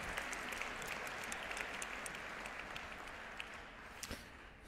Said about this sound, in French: Vous pouvez les applaudir, effectivement.